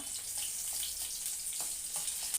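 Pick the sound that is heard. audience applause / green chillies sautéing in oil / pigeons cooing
green chillies sautéing in oil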